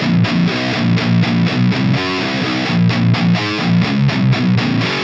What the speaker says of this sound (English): There's this crunchy something in the distortion that sounds a little vintage.